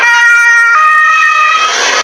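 An ambulance siren at a school shooting scene in Graz, Austria, loud and near, a continuous wailing tone that shifts pitch partway through and holds steady to the end.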